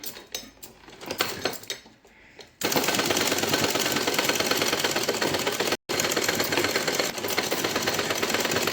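A sewing machine stitching a Madhubala-style blouse: after a few seconds of handling clatter, the motor starts and runs in a loud, rapid steady chatter, pausing briefly once before resuming; nobody speaks.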